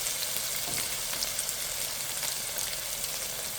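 Onion and ginger hit hot oil in a wok (kadai) where garlic has already browned, producing a loud, continuous close-up sizzle with faint stirring and no voices.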